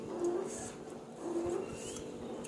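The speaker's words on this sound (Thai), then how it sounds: "เสียงตู้เย็นห้อง" A household refrigerator hums in a home kitchen room, a faint, low, steady drone that swells and eases slightly.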